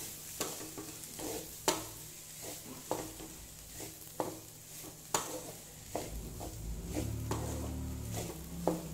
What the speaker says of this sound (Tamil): மசிச்சு வச்சுருக்கோம்ல அந்த உருளைக்கிழங்கை இதில் ஆட் பண்ணுறோம். ஆட் பண்ணி நல்லா கலந்து விடுங்க